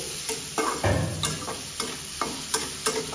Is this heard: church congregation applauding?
no